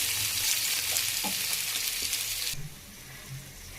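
Onions frying in a pan for a moong dal dish, a steady close broadband sizzle with faint stirring scrapes that cuts out abruptly near the end, leaving a quiet hum.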